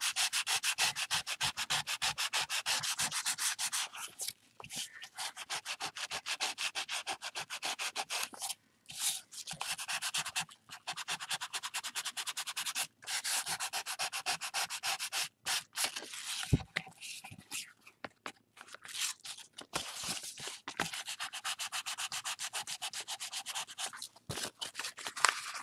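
Sandpaper scrubbing over a painted wooden heart, close and dry, in rapid back-and-forth strokes broken by short pauses, no voices.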